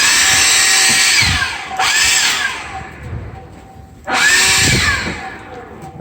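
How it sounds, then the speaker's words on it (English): A Ridgid blower clears debris from the edges of a floor, its broadband rushing roar running steadily close by, dipping twice and surging back up as the airflow shifts. "Now I'm going to finish off with this rigid blower"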